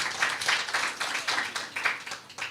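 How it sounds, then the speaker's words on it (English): Conference audience at a regional Eastern Caribbean law gathering breaking into applause, a dense, steady wash of many hands clapping with small swells, fairly close and filling the room. "Give her a big round of applause, please."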